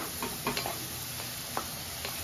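Garlic paste frying in a pan for a mutton curry, a steady low sizzle with a few soft scraping stir clicks, fairly close and with no talk.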